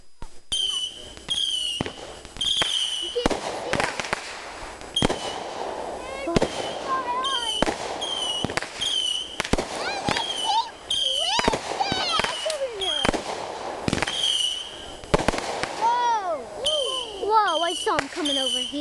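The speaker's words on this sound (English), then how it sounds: "I like fireworks." Fireworks crackle and pop in rapid bursts, with whistling rising streaks between explosions, while people talk now and then in the background.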